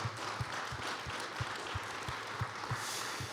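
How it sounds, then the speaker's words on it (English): A lone person claps in a quiet room, about nine sharp, evenly spaced claps with a soft murmur beneath. "I'm going to clap for DNA."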